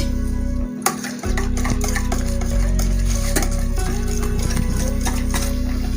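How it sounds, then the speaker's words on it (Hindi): A kilogram of yogurt being lightly whisked for kadhi, a steady close scraping and stirring with utensil knocks against the bowl, continuous and fairly loud, with no talk. "ये मैंने 1 किलो दही लिया था और इसको मैं हल्का सा फेंट लेती हूँ"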